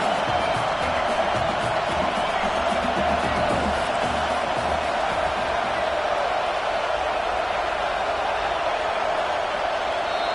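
Dense stadium crowd roaring at a college football game during a key down, a steady loud wash of cheering and noise lasting throughout with no break.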